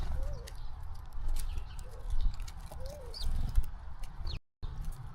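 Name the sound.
mourning doves at a bird feeder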